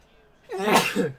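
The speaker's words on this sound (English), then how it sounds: "I'm going to sneeze." One sudden, loud sneeze bursts out close by after a brief quiet moment, with a sharp breathy explosion and a trailing voiced tail.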